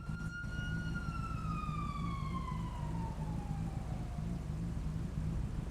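A police siren wails in a long descending glide, fairly distant, over a constant low engine rumble.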